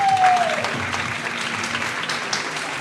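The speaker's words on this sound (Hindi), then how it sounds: "तालियां बजाओ यार।" Studio audience claps at a Pakistani cricket review show, steady broadband applause for about three seconds, fairly loud and close, with a brief rising tone at the start and a low hum beneath.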